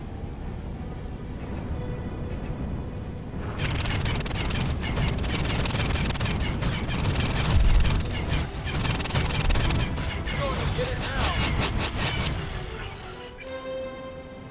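Spaceship turret fire and an explosion in the space combat game X4 with a Star Wars mod: a dense, continuous roar of blasts, crashes and rumbling that swells midway, with a brief line of speech early on.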